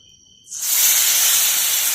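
Fish pieces slid into hot oil to fry give off a sudden, loud, steady sizzling hiss that starts after a brief quiet moment and holds close and even, with no talking.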